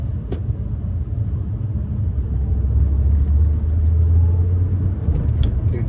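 A 2014 Peugeot RCZ engine pulls steadily through first and second gear, a continuous low rumble that swells slightly as it accelerates, heard from inside the car without talk.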